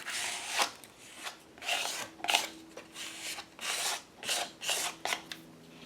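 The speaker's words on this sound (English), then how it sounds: "I'm just going to scrape some gesso down each page" Gesso scraped down altered book pages: a series of about nine rasping, dry strokes in an uneven rhythm, close and fairly quiet.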